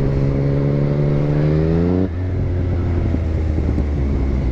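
A 2017 Yamaha MT-09 motorcycle's engine revs up with a rising, harmonic-rich note, then drops abruptly to a lower steady rumble. It sounds loud and close, with city surroundings and no talk.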